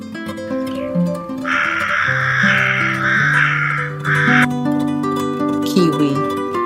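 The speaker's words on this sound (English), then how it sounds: "Crow." Harsh crow caws ring out as a few loud, rasping calls over a steady tonal music bed, close and prominent for several seconds.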